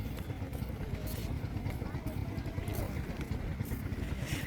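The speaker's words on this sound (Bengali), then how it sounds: "নদী খনন কাজে ব্যবহৃত হয় এটি ট্রলারটি।" A river dredging trawler boat's engine gives a continuous low, throbbing rumble at a steady level from a riverbank, with voices talking over it.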